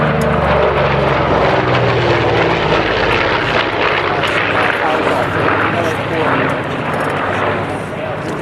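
An A-26 propeller aircraft roars past low at the Rocky Mountain Air Show, a loud sustained engine drone that swells and slowly fades, with an announcer talking over it.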